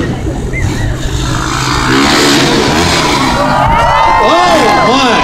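Motocross motorcycle engine revving at a daredevil show as the rider hits the ramp, with a crowd cheering and an announcer talking over the steady engine roar.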